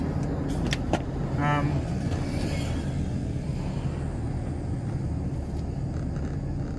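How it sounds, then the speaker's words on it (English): A car driving close behind on a road, heard as a continuous low road rumble and engine drone, with a short tonal whine early on. "There's a car right behind me, 2 inches off my ass."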